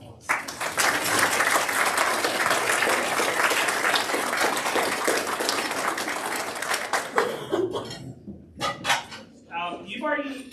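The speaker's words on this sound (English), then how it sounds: "So I invite you to give them a round of applause." A parish annual meeting audience claps in a full round of applause that holds steady, then thins out into scattered final claps, light chuckles and rustling as the room settles.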